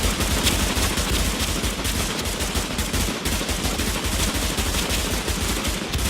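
A light machine gun fires in the video game The Division, a loud, continuous rapid stream of shots with brief breaks, heard alone without talk.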